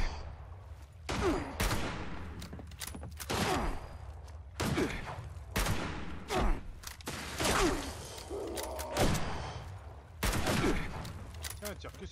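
Bursts of rapid gunfire from a hostile creature in a video game, loud and repeated in several volleys with brief gaps, with some speech around them.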